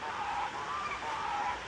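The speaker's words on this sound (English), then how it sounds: "There's some actual ducks." Ducks quacking and honking in a soft, continuous chorus, somewhat distant, with outdoor background noise.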